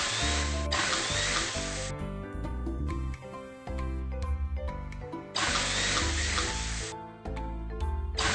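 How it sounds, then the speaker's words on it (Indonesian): In a cartoon video game, an ice auger bores holes in frozen river ice for fishing, a bright whirring drill burst that starts and stops in two long runs, with playful music and short effects between them. "Pertama-tama, bor beberapa lubang di atas es."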